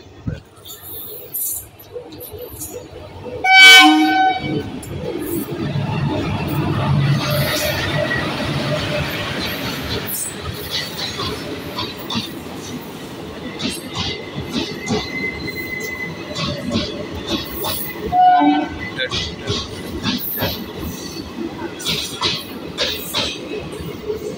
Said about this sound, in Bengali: এখন সামনে আসছে শিয়ালদা রামপুরহাট মাথারা এক্সপ্রেস। প্রান্তিক স্টেশনে ঢুকছে বোলপুর স্টেশন ছাড়ার পর।